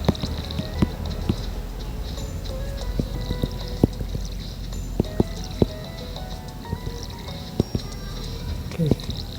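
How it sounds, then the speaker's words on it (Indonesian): Crops being watered in the Stardew Valley video game, small splashy drip and pour effects popping up repeatedly and irregularly over a quiet background hum. "kita siram-sirami dulu ini"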